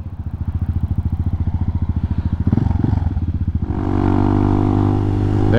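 Hawk 250 motorcycle engine idling a little high, a loud close pulsing single-cylinder chug with a rattling texture that shifts to a smoother, steadier drone partway through, no talk.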